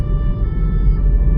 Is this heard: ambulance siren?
yes